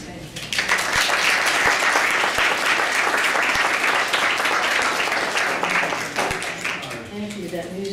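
Audience applause at an award ceremony for a cultural medallion, a dense, steady wash of many hands clapping that sustains loudly for several seconds before tapering slightly near the end.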